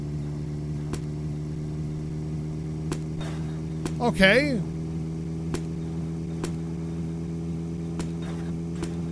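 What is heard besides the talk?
car engine running in The Long Drive video game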